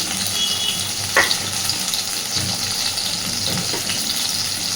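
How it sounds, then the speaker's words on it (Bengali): Soya chunks coated in cornflour fry in hot oil with a steady, close, loud sizzle, broken by one brief clink of stirring early on; no voices. "2-3 বারে ভাগ করে ভেজে নেব।"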